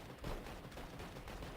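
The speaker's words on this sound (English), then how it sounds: "So many bullets, and you can just spray those things." Dual Beretta pistols firing in a CS:GO match, a dense, rapid spray of gunfire heard as a continuous loud rattle with no clear gaps.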